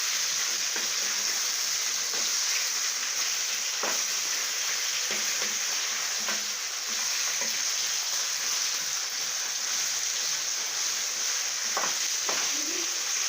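Chicken pieces with cardamom and cinnamon frying in oil for a biryani, being stirred in a pan: a continuous loud sizzle with scattered scraping taps from the stirring utensil, close up.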